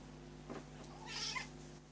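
A cat gives two faint meows, a short one followed by a longer, higher-pitched one, over a steady low background hum.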